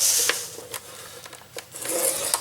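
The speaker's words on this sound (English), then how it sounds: "So just put it in, score it at 1 inch all the way around." Thick cardstock is scored at one inch for a mini album box, with a close, soft scraping rub in repeated strokes and brief pauses between passes.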